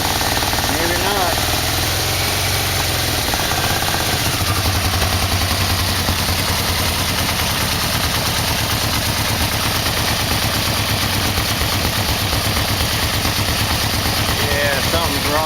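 A Yamaha V-Max motorcycle engine idles with a carburetor sync problem, a loud, steady, throbbing mechanical rumble throughout with faint voices now and then underneath.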